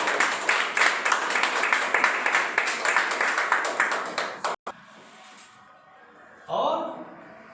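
An indoor training-seminar audience applauds in a dense, loud burst of clapping that stops abruptly, followed by quiet room tone and a brief voice.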